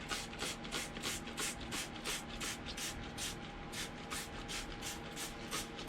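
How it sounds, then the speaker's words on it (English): Vinegar and desalter mixture sprayed onto leather Frye boots in rapid, even bursts of hissing mist, about a dozen regular pumps close by with no talk. "So while I'm spraying this one, that first boot is about done now, soaking it in."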